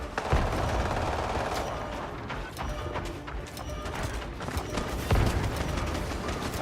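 Enemy gunfire in a video game, a continuous, dense rattle of automatic shots with a few heavier thumps, held at a steady mid level throughout without speech.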